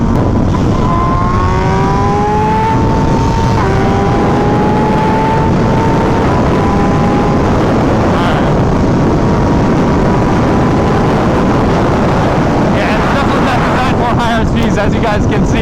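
An MV Agusta Brutale naked motorcycle accelerates at full throttle, its engine note climbing through a gear change under heavy, constant wind rush, recorded close and loud while riding.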